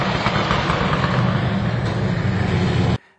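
Rally car engine running its anti-lag map, injectors and plugs firing on the exhaust stroke, a loud dense rumbling crackle held steadily close up for three seconds before cutting off abruptly.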